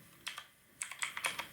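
Keys clatter on a computer keyboard while HTML code is typed, two quick taps, a short pause, then a faster run of light, crisp keystrokes, close and fairly quiet.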